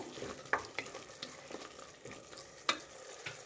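Curd and spices fry quietly in a pan for an aloo peas rice dish, a soft sizzle broken by a few sharp stirring scrapes and taps of a spoon.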